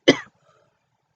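A single short, sharp cough, close and loud, followed by near silence.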